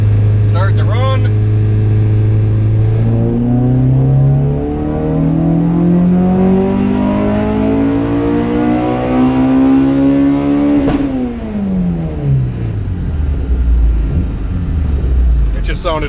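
An all-motor LSVtec engine revs hard on a dyno, its loud harmonic tone climbing steadily for about ten seconds before dropping sharply as the throttle lifts and the engine winds down.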